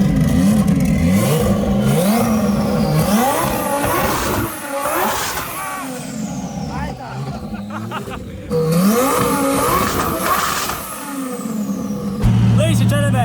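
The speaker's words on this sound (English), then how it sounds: "this is Europe's fastest twin-turbo Huracan. This is also the world's most expensive dyno" A twin-turbo Lamborghini Huracan Performante engine revs hard on a dyno, rising and falling in repeated loud sweeps with rough mechanical clatter close by, under a constant strong engine drone.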